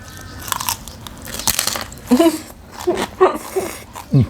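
Crispy deep-fried pork leg being bitten and chewed up close, a sharp crunch followed by several louder crunchy chews in an uneven rhythm.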